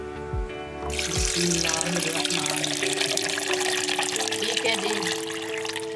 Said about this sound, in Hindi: ये हमने इसमें ये लीची डाल दी है और अब हम इसमें ये पानी डालेंगे।